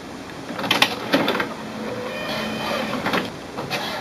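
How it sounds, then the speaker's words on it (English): An HP OfficeJet 9025-series printer runs a printhead alignment page, with mechanical whirring and repeated sharp clicks and carriage slides at an even, moderate level. "So it's printing the alignment page right now."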